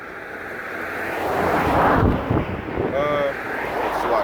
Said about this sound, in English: That wind is pushing out.